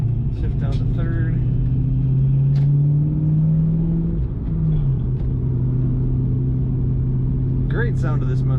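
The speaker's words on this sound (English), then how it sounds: "Great sound to this Mustang, nice and aggressive." A 1998 Ford Mustang SVT Cobra engine drones steadily while driving, its pitch climbing and then dropping around a gearshift, with road rumble underneath and only brief scraps of talk at the start and end.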